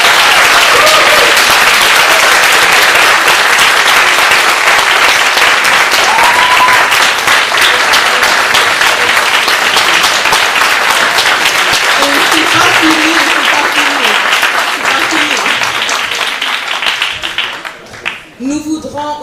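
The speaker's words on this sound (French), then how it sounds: "remercier avec un grand applaudissement nos conférenciers" Loud, sustained applause from a large audience thanking speakers at a youth summit panel, with a few voices faintly audible beneath it, fading out near the end.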